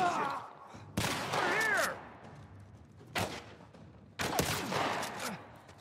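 Loud shotgun blasts in The Last of Us Part I, with three sharp booming shots spaced a couple of seconds apart, each followed by a short decaying tail and over a rumbling game background.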